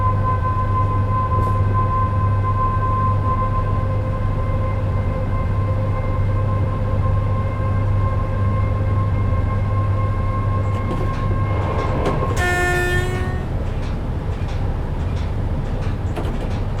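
Class 86 electric locomotive in a train simulator game, a steady loud traction drone with sustained whining electric motor tones throughout, then a brief rising-falling horn-like tonal sweep near the end over the continuous rail rumble.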